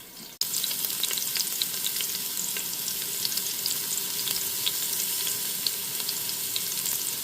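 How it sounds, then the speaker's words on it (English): A beef roast sears in an Instant Pot with a loud, steady close sizzle and crackle that starts suddenly and runs unbroken throughout, with no talk. "And when searing, you want to make sure you get all sides, the bottom of it here, the sides, both sides, and this side here as well."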